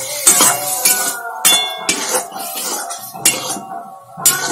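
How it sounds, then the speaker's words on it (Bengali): Metal plate set over a cooking pot as a lid, giving a series of bright clanks and clinks of metal on metal, close and loud, several separate knocks spread over a few seconds with no talking. "এবার থালাটা দিয়ে ঢাকা দিয়ে রাখি।"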